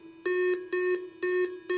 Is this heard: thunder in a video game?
no